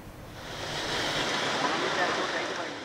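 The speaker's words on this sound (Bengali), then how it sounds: "রাজধানী জুড়ে হঠাৎ বৃষ্টি।" Steady roar of sudden rain driven by stormy wind in Dhaka, a dense continuous wash of sound that swells and holds loudly throughout.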